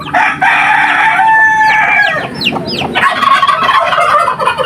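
Turkeys gobble in a farm pen, several loud calls rising and overlapping with clucking fowl and other poultry close by, continuing through the whole stretch without any human voice.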